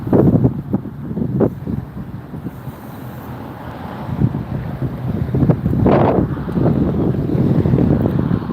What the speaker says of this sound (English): Gusting winds here make for challenging conditions for landing and departing, especially for landing.